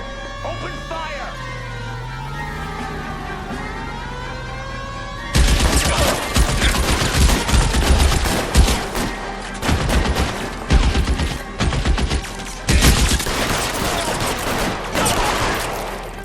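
Gunfire in a shootout from L.A. Noire: dense rapid shots break out after a quiet stretch with a voice, then continue as loud irregular bursts.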